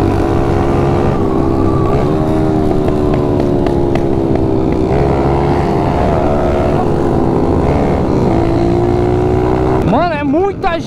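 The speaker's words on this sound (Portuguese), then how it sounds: "Nossa, mano. Olha o tanto de moto." A large crowd of motorcycles rides along a city street, their engines droning and revving loudly and continuously up close, while people talk over the roar and a sharp rising whine breaks out near the end.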